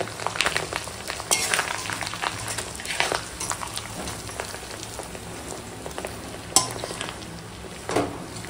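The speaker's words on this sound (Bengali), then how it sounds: "এখন ডিমটা ভেজে নেবো, এটা মাছ ভাজার তেল," Rohu fish roe frying in reddish oil left over from frying fish, a crackling, spattering sizzle with scattered sharp pops and a few spatula clicks, moderately quiet, with no talking.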